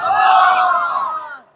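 A large crowd at a religious gathering shouts a takbir chant in unison, one loud sustained collective cry that swells and then fades out over a second and a half.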